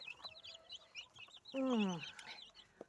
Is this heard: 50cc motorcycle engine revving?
no